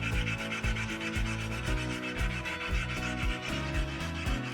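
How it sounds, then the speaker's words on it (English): Oiled grinding stone rubbed back and forth across a rusty cast iron Suburban griddle, a steady rasping scrape in repeated strokes with a low thump at each turn, close and continuous. "I'm going to use the stone, and I'm going to use a little bit of oil as kind of a lubricant for the stone"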